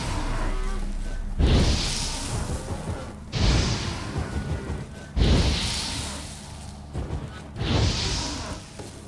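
Cows low in The Witcher 3: Wild Hunt, four long, loud moos spaced a couple of seconds apart, each starting with a breathy swell and trailing off, over a low background rumble.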